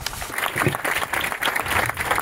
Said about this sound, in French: On applaudit le général, s'il vous plaît, on applaudit.